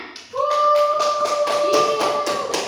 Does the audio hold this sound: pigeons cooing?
no